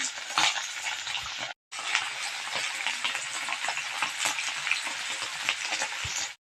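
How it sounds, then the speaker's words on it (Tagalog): Dried galunggong fish frying in a pan, a bright continuous sizzle with crackles and occasional utensil clinks, close and loud, briefly cutting out before resuming. "iprito po muna natin ang tuyong galunggong."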